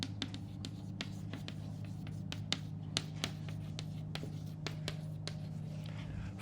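Pen writing out a nutrition facts practice problem, a faint run of soft scratchy strokes and taps in irregular rhythm over a constant low electrical hum, close and without talk.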